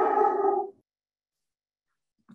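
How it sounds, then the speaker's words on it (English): One dog barks in a single drawn-out bark close to the microphone, followed by silence and a faint short sound near the end. "That was a great barking dog right at that moment."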